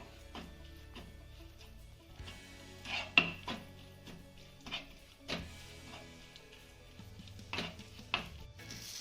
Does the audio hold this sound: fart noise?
no